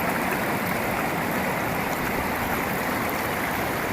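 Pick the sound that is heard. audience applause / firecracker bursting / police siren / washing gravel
washing gravel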